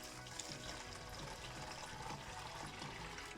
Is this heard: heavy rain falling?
no